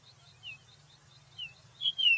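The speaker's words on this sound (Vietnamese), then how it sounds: "Blackbird." A blackbird sings soft, fluty whistled phrases over a low background hum, growing louder and more sustained toward the end.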